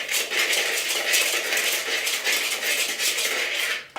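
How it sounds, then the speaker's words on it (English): A utensil scrapes and rattles in a bowl while dry ingredients for a chocolate peanut butter pie crust are mixed, giving a continuous close, bright stirring hiss without pauses or talk. "So then you're going to mix that all together just until it's pretty well mixed."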